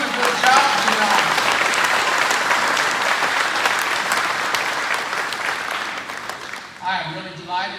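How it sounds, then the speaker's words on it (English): Dinner-banquet audience at a Lincoln-Reagan Day event claps loudly and steadily for the technician, the applause tapering off toward the end as a voice begins speaking over it. "Let's give a round of applause to the technician."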